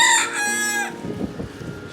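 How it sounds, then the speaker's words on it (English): A rooster crows loudly nearby, one drawn-out call lasting under a second, followed by softer muffled clucking and low background noise. "Shut up, rooster."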